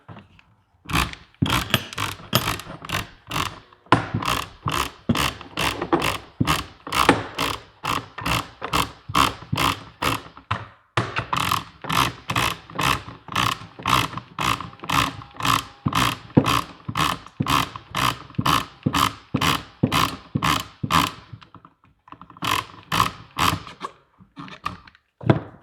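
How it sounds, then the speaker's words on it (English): A strap wrench unscrews the magazine tube of a Winchester Model 1911 shotgun, giving a long run of evenly spaced ratcheting clicks and thunks, close and loud, with a couple of short pauses to reset the grip. "we will use our strap wrench, pipe wrench, whatever you want to call it, to grab that magazine tube"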